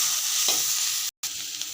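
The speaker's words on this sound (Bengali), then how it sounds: "এবার আবারও নাড়া দিয়ে দিচ্ছি" Spiced mixture being stirred in a frying pan, a brief bright continuous sizzle with one soft scrape of the spoon, cut by a short gap of silence.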